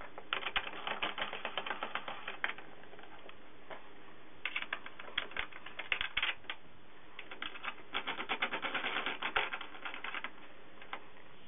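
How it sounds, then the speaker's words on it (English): Screws being driven to fix a lathe motor mounting in place, with a wooden block nearby. Clusters of rapid ratcheting clicks come in bursts separated by short pauses, fairly close and moderately quiet. "now I'm screwing everything down into position"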